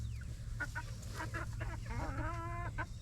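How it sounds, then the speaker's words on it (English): Several free-roaming chickens clucking and murmuring close by, with short repeated calls over a low rumbling background. "But it's really fun having chickens free roam."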